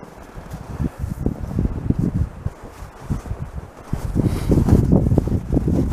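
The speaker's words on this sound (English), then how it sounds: "It's a pretty cold and windy night." Gusty wind buffets the microphone in uneven low rumbling bursts on a cold night while camping on a hike to Pinto Lake, Alberta, growing stronger toward the end, with no voices.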